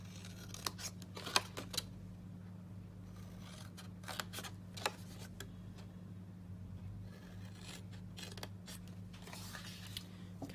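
Scissors snip through cardboard up to a score line for a gingerbread man box, giving a series of quiet, irregular cuts and crisp clicks over a low steady hum.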